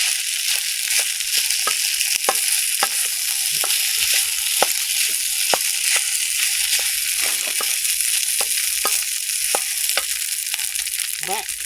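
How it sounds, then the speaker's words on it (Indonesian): Nasi goreng (fried rice) frying outdoors in a garden setting, with a steady loud sizzle throughout and repeated sharp scraping clicks of a spatula stirring the rice, with no talk over it. "Oh iki goreng sego sik."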